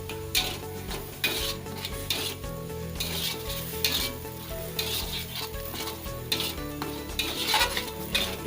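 Sparrow meat for rica-rica cooks in a pan until its moisture is gone, giving a steady close sizzle with scraping stirs and occasional clinks of utensil on metal, no voices.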